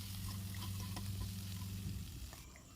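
Garlic paste with spices fries and gets stirred in a pan for an aloo gobi curry, making a soft, low, continuous sizzle with faint stirring scrapes, quiet throughout.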